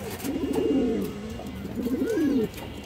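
Fancy domestic pigeons cooing nearby, two warbling, throaty coo phrases one after the other, fairly loud and clear, with no one talking.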